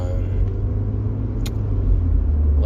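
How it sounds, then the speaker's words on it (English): Steady road rumble of a car being driven on the road, heard from inside as a continuous low drone with no talking. "I'm driving to work."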